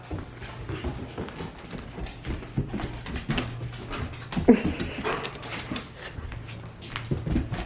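A dog whimpers and pants repeatedly in an indoor home studio, with soft clicking footsteps and movement noise around it, close and moderately loud, with no speech.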